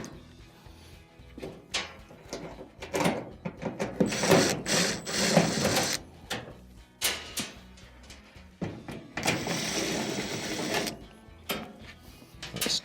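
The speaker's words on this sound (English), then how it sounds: "there are 3 Phillips screws that will need to be removed" Phillips screws are backed out of the top panel of an LG dryer with a ratcheting driver, giving bursts of clicking and whirring with short pauses between screws, close and fairly loud.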